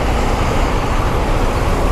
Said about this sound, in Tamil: ஃபுல்லாக டிராஃபிக் ஆகி போச்சு.